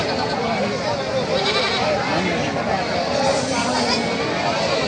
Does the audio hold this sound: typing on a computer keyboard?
no